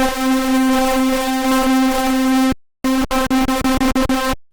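A distorted hardstyle synth lead plays loud and close, a sustained buzzing tone followed after a brief gap by a rapid series of choppy repeated notes.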